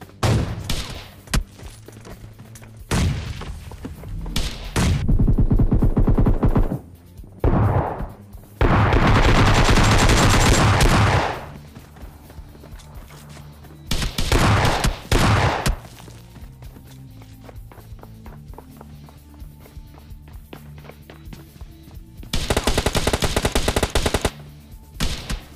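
Bursts of automatic gunfire from PUBG Lite crack loudly in several separate volleys, long rattling strings of shots broken by quieter gaps with footsteps and faint ambient sound.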